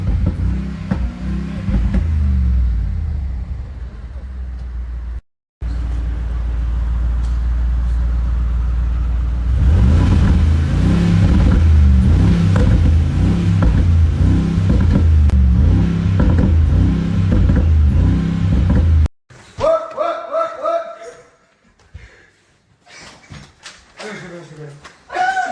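A car engine revs up and rumbles loudly at close range, sustained through most of the stretch with a brief cut, then dropping to quieter sputters, with voices talking over it.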